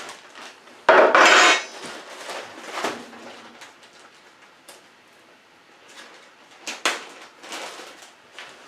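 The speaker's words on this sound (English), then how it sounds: "I want to mix in my corn" Corn goes into a pot of rye whiskey mash, with a loud clattering scrape near the start and a few lighter knocks and stirs later. Faint background chirps, no talking.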